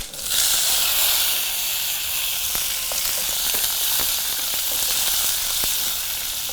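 Small onions hitting hot tempered oil with urad dal, cumin and mustard seeds give a steady, loud, close sizzle and hiss, with faint stirring clicks and no talking.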